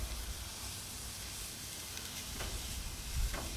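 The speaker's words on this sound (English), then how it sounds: "we'll go ahead and throw on our turkey meat here and get it off the plate" A turkey burger patty sizzles on a hot grill with a steady, even hiss, alone and close, broken by a couple of faint clicks.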